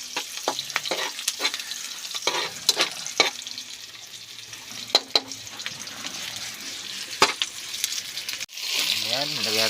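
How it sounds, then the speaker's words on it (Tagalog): Onion and garlic sauté in pork lard, giving a steady sizzle punctuated by sharp stirring clacks, close by, with a rush of water near the end. "Gisahin natin ng sibuyas at bawang"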